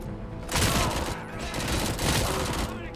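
Gunfire in the video game RoboCop Rogue City, two dense bursts of rapid shots in a row, loud and close, filling most of the moment.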